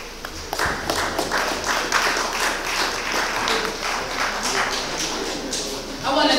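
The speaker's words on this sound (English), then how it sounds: "another round of applause" A conference audience applauds, a dense, steady patter of many hands clapping that carries on for several seconds and swells briefly near the end.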